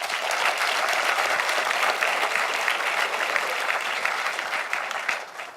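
An audience in a community standards presentation room claps steadily and loudly for several seconds, dense and sustained before tapering slightly at the end, with no talk over it.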